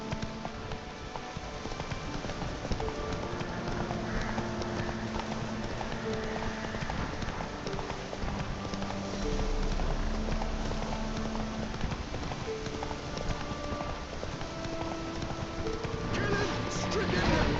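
Horse hooves galloping in the video game Witcher 3, a continuous fast clip-clop of hoofbeats running under game music and ambience for a long stretch, with voices heard at times.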